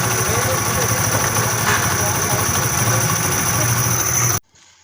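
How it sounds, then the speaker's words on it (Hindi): A Honda CD 70 motorcycle engine idles on its main stand after a repair for a crankshaft-like knocking noise, a steady low drone with vibration that runs continuously and then cuts off abruptly near the end. "एक दफ़ा मैं आपको आवाज़ सुनवा दूं मेरे दोस्तों। बाइक मैंने स्टार्ट कर ली है।"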